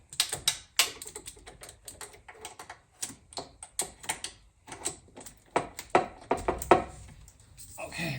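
Ratchet turning through an extension and short socket on a 2JZ exhaust manifold in a GS300/SC300/IS300: fast, irregular clicking bursts with sharp metallic ticks, close and fairly loud throughout.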